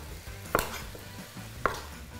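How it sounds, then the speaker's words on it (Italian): Two sharp knife chops on a board as potatoes are cut into pieces for cau cau de mondongo, spaced about a second apart in a quiet kitchen. "Considerate di tagliare le patate più o meno di queste dimensioni."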